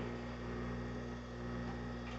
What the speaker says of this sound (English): You hear my dishwasher in the background.